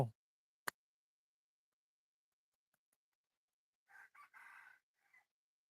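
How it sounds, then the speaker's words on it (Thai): A free-range rooster crows once, faint and distant, in an otherwise near-silent rural setting, preceded by a couple of brief soft clicks. "ก็เลยสามารถแบบเลี้ยงไก่ได้"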